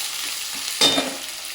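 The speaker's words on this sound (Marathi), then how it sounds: "छानपैकी आपण भाजून घेऊया तेलात मस्त" Peanuts and green peas fry in oil in a pan for soya pulao, a soft sizzle that flares suddenly as they hit the hot oil and then settles into a steady crackle.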